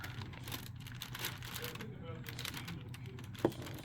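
A cat walks on a clear plastic cover, making scattered crinkling and rustling under quiet indoor sounds. One sharper crackle stands out near the end.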